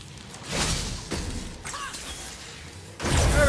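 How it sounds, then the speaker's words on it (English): Objects shatter in God of War (2018) gameplay, with several crashing breaks and whooshing impacts over about three seconds, loud and up close, with no talk. "Never get tired of shattering things with this."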